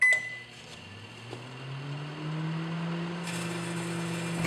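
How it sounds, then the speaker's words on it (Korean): A running microwave oven hums with a steady low whir while grapes spark inside it, a few brief crackling ticks standing out over the constant drone. "굉장히 강한 스파크가 발생합니다."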